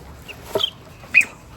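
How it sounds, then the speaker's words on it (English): A hen and a newly hatched chick make two short, separate clucking and peeping calls, close by against a quiet background. "there's a baby chick right there"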